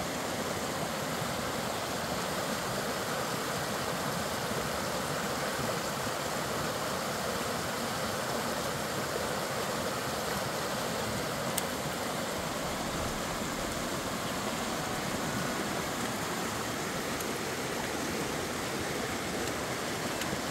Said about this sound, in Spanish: Y mire qué chulada el río Jiboa.